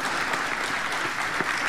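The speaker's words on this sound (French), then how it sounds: "notre troisième juge sous vos applaudissements, Louise Blanchard." A crowd applauding steadily at a stage show as a judge is introduced, dense clapping at an even volume from start to finish.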